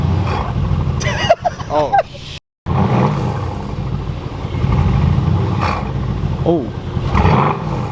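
A tuned Mercedes C63 AMG engine roars loudly up close, with a deep rumbling idle and sharp revs that rise and fall, broken by a short dropout. Excited voices call out over the engine.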